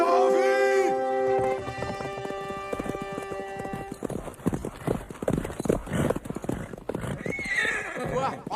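A horse in a battle scene from the 1992 film Army of Darkness gives a loud whinny and then gallops with rapid, uneven hoofbeats. The action sounds are busy, and voices can be heard among them.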